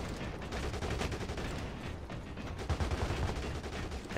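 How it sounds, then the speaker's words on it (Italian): Gunfire in the online shooter game CrossfireX on Xbox Series X, dense rapid bursts of automatic weapons crackling and thudding close by in a sustained barrage, with no speech over it. "ma perché loro ci sparano?"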